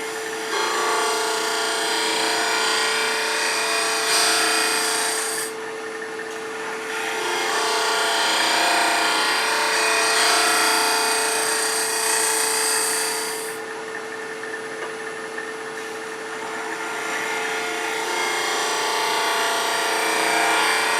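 Wood lathe gouge cutting and smoothing the inner walls of a turned wooden garlic keeper box, a loud continuous whirring scrape that swells and eases in long passes, steady and close with no talk.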